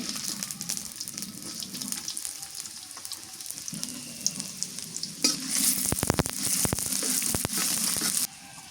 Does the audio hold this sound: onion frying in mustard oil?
yes